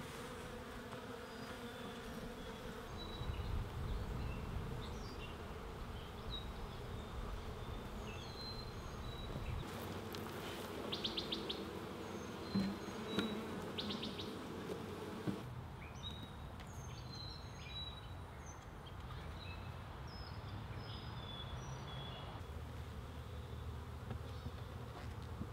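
Honeybees swarm around a Langstroth hive with ten full frames, a steady dense buzzing that stays close and continuous throughout, with individual bees droning past and no talking.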